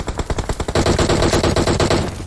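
Rapid automatic gunfire in PUBG Mobile on the Erangel map, a fast stuttering burst of close shots that builds into a dense, continuous loud volley.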